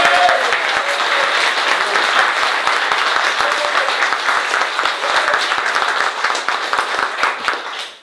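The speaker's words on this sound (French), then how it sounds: "Je vous demande de l'ensevelir sous un tonnerre d'applaudissements" Loud, sustained applause from a concert audience at a tribute show, thick continuous clapping for about eight seconds that tapers off at the very end.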